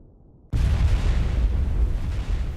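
Explosion in news footage of Tehran during a US military strike on Iran: a sudden loud blast onset followed by a sustained, heavy rumbling roar that persists without any talk.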